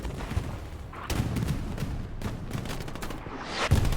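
Gunfire in the World War II shooter Hell Let Loose, with repeated sharp shots and bursts, some near and some distant, scattered irregularly over a constant battlefield rumble, with no talk.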